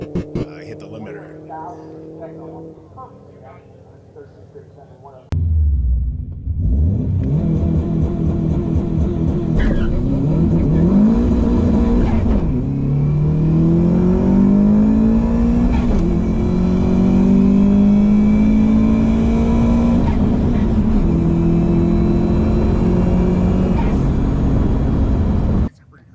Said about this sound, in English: I hit the limiter.